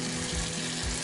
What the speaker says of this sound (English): We'll go ahead and start laying in some bacon.